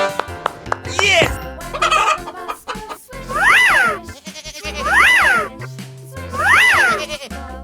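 Toy farm animal chicken sound, with repeated clucking and crowing-like calls in bursts over a tonal musical background.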